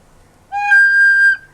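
A squeal from a recorder with a poorly sealed finger hole: a brief low note snaps up to a piercing, steady high whistle that holds for about a second before stopping, loud and close.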